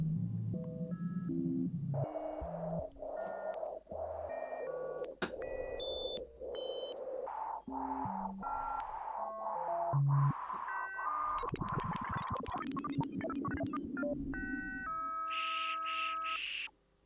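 Random synth tones for an eerie drone pad made in Ableton Live: a string of sustained electronic notes and pulsing bleeps that jump unpredictably in pitch, loud and continuous before cutting off at the end.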